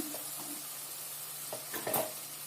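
Ginger garlic paste sizzles in a pan with softened tomatoes for chicken pulao, a steady frying hiss with a few soft stirring scrapes and a brief louder burst near the end.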